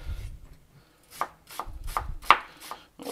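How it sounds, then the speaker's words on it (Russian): A knife chops an onion into quarter rings on a board, several sharp close strikes in an irregular rhythm with brief pauses between them. "И режем такими четверть кольцами."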